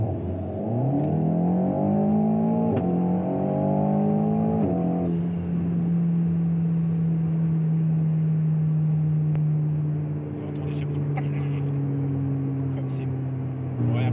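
Alpine A110 S Stage 2 sports car running on SP98 fuel, its engine revving up through rising tones, then settling into a steady loud drone heard from nearby, with a few sharp clicks toward the end.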